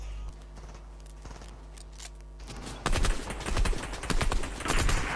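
Guns fire in a Fortnite Battle Royale match as rapid, dense bursts of shots break in loudly partway through, over a steady game background hum, with no one speaking.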